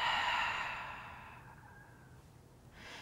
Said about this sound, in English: take a big breath in and a big breath out